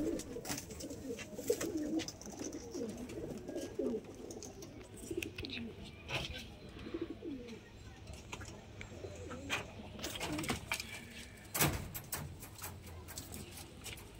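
Male pigeons of an old-generation Giribaj breed coo in low, throaty bursts, soft and fairly close, with a few sharper noises and faint background sounds around them.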